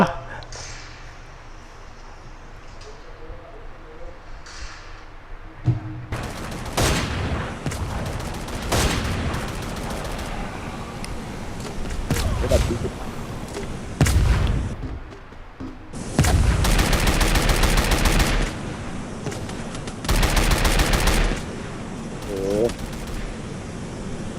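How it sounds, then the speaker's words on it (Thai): Bursts of automatic gunfire and booming shots in the battle game Free Fire MAX, several loud volleys in quick succession with someone talking excitedly throughout. "ใครมันตามยิงพี่วะ"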